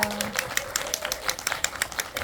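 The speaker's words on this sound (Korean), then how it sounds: "박수 한번 네, 부탁드리겠습니다" Audience applause at a film festival event, scattered claps for an actress after a request to applaud, fairly faint and thin, with some murmuring voices mixed in.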